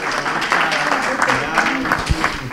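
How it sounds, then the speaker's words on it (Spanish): Audience applause at a children's Christmas drawing award ceremony in Úbeda, a steady wash of clapping from a crowd with voices mixed in underneath throughout. "un fuerte aplauso a esta familia que también ha ganado"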